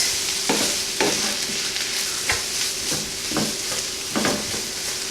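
Vegetable samosa filling is stirred in a frying pan over the heat. A steady sizzle runs throughout, and five or six spoon scrapes and knocks against the pan land at a loose, regular pace, close and alone with no talk.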